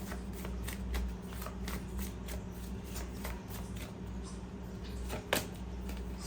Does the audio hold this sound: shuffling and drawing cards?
yes